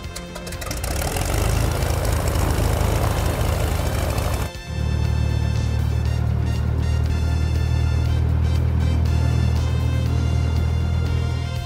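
A cartoon airplane engine is pushed to full throttle for takeoff, giving a loud, steady droning roar that runs throughout and thickens into a heavier, deeper hum partway through.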